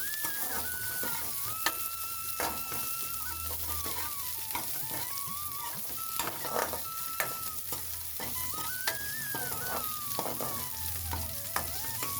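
Spices tempering in hot oil for a green apple sambar, a continuous close sizzle with stirring scrapes throughout and a faint bird calling in the background.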